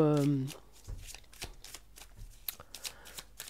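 Tarot cards being shuffled by hand, a string of soft riffling flutters and taps close by, with a voice speaking briefly at the start.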